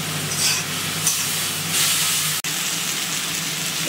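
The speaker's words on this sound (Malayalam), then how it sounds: "ഉള്ളി അതിൽ നല്ല ഒരു ഫ്രൈ ആയിട്ട് നല്ലൊരു ബ്രൗൺ ഷെയ്ഡിലോട്ട് വന്നു" Onions frying in oil toward a brown shade for crab masala, a continuous loud sizzle and hiss with occasional stirring scrapes and a brief dropout partway, no talking.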